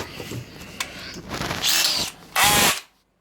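An Irwin American-made taper tap cuts quarter-20 threads in a short, close burst of powered turning, with two louder surges before stopping abruptly.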